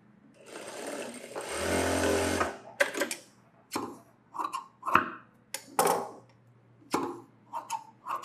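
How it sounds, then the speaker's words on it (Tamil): A sewing machine stitches a blouse in one continuous close whirring run of about two seconds. A series of separate clicks and knocks from handling the machine and the fabric follows. "அதை கனெக்ட் பண்ணி தையல் போட்டுக்கோங்க"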